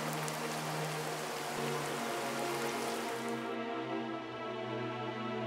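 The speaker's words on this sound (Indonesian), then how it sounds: "Hujan pun turun" Steady rain pours down in a dense, even hiss, close and continuous, with a low droning hum running underneath throughout.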